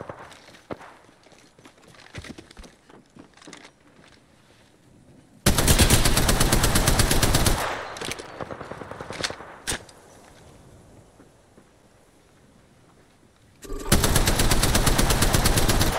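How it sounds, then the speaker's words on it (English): Several squads trading gunfire in the battle royale Apex Legends: quiet footsteps and scattered distant shots, then a loud sustained automatic burst of several seconds, sparse single shots, and another heavy burst near the end. "There's someone shooting so it's three different squads that are shooting at each other right now"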